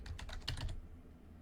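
A quick burst of about half a dozen keystrokes on a computer keyboard, close and clear, as a movie name is typed, then quiet.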